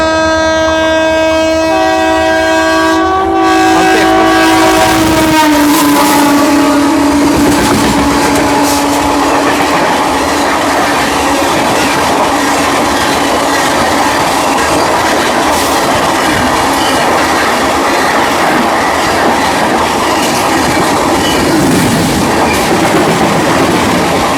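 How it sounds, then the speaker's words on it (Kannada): A loud train horn blares at the start, then the Hampi Express from Hubli to Mysore passes close by with continuous rumbling and rhythmic clatter of wheels on track. "ಈಗ ಹುಬ್ಬಳ್ಳಿಯಿಂದ ಮೈಸೂರಿಗೆ ಹೋಗುವಂಥ ಹಂಪಿ ಎಕ್ಸ್ಪ್ರೆಸ್"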